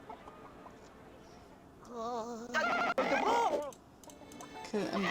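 Chicken clucking in the 1996 Disney's Animated Storybook The Hunchback of Notre Dame game, a few short bursts of clucks and squawks rising in the middle and end, with a person talking over parts of it.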